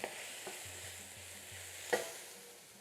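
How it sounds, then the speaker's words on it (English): Chopped onions and garlic saute quietly in a pan over reduced heat, giving a faint, steady sizzle with a soft clink of a utensil near the middle. "So saute the onions for a minute, then add the garlic."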